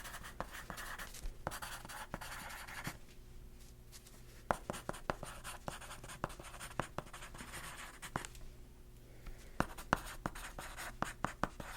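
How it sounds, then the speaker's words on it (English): A pen writes on paper at a quiet reception desk, giving soft scratchy strokes and little taps in irregular bursts, close and faint, with short pauses between stretches of writing. "I'll write that down."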